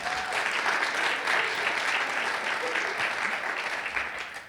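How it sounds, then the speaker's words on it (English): A warm round of audience applause at an evening event, dense and close, holding steady before fading out near the end. "So please give her a big round of applause."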